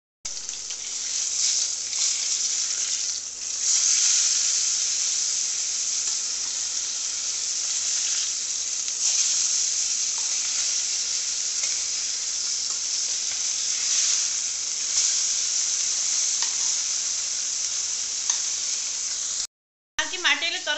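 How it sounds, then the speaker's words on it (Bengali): Spiced fish coated in salt, turmeric and chili powder sizzles loudly and steadily on a hot tawa griddle, with the frying hiss carrying on almost unbroken until a brief drop near the end. "এখন দিয়ে দেবো মাছ।"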